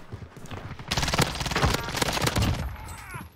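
Rapid bursts of gunfire from another team in the video game Warzone, a dense rattling volley loud and sustained for a few seconds.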